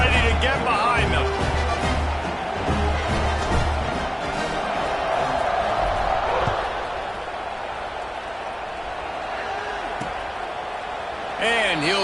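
A stadium crowd in the NCAA Football 26 video game makes a steady roar with a few shouts, running under a commentator who speaks throughout.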